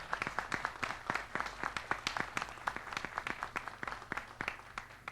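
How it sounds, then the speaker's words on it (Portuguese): Sparse, distinct hand claps from a small audience after an agricultural technology panel in Brazil, coming at an uneven rhythm and fairly faint, with no voices over them. "a gente pode dar uma forte salva de palmas por todo o conhecimento que foi compartilhado nesse palco."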